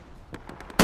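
A single loud, sharp M1 rifle shot in the World War II shooter Hell Let Loose, preceded by a few faint distant pops, ending abruptly with the close report.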